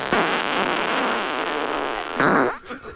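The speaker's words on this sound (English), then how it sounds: "All real farts recorded from my butt." A soundboard plays a recorded human fart as one long, loud, buzzing blast that runs for a couple of seconds and ends in a sharper burst, with no voices over it.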